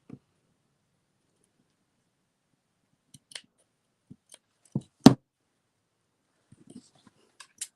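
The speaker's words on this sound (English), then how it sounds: "one last snip. And another last snip." Sharp scissors snip through eco-printed fabric for a lavender bag. A few quiet, isolated cuts are spaced apart over near silence, ending with a couple of crisper snips close together.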